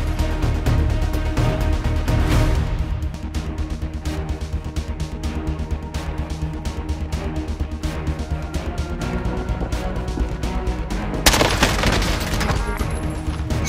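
Rapid gunfire crackles continuously in a Call of Duty Warzone battle, punctuated by a sharp, loud Semtex grenade blast near the end, with dense overlapping shots throughout.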